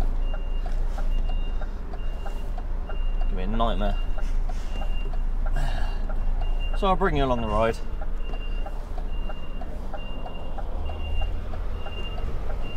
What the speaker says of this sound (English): you just walk out behind a reversing truck